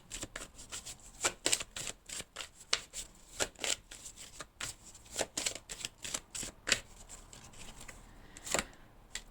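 Tarot cards shuffled by hand in a quiet room, a rapid series of crisp riffling slaps and flicks in uneven bursts, close and fairly soft with no voices.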